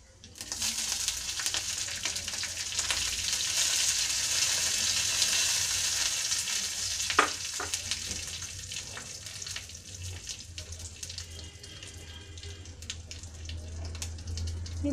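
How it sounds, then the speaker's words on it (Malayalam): Mustard seeds spluttering and crackling in hot oil while tempering for tomato rasam, a steady close sizzle with scattered sharp pops throughout and no talking. "കടുക് പൊട്ടാൻ തുടങ്ങുന്നുണ്ട്."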